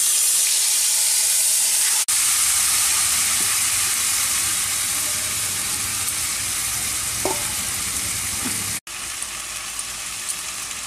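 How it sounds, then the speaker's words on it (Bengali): Marinated chicken hits hot oil with whole spices like cinnamon and cloves for a biryani, giving a steady loud sizzle and frying hiss with occasional stirring clicks, two sharp breaks in the middle. "দিয়ে ম্যারিনেট করে রাখা মাংসটা এখন দিয়ে দেওয়া হচ্ছে। চিকেনটাকে কষিয়ে নেওয়া হবে।"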